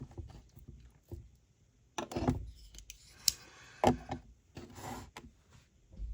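An EMP EDC Nymble folding knife is flicked open and shut, giving sharp, faint detent clicks and light metallic snaps at irregular intervals, close up against a quiet background.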